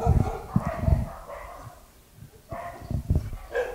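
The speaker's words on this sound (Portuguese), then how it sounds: "O cachorro já está ali fazendo a visita dele." A dog barks several times at a house during a home visit, loud and close, in short irregular bursts with quieter gaps, and a voice is briefly heard among the barks.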